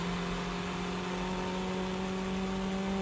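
Nissan S14 engine droning steadily at close range as the car brakes into a corner mid-drift, a continuous even hum with a faint whir and no clear tire squeal.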